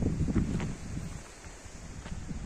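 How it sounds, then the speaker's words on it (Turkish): Steady outdoor wind by a pond buffeting the microphone, a low rumbling gust that swells and eases, with no voices. "Zaten rüzgarın sesini duyuyorsunuzdur."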